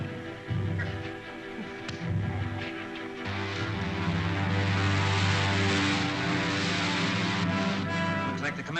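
Propeller aircraft climbing in a 1938 film sound effect, a loud, steady engine drone with a dense buzzing hum that swells and holds.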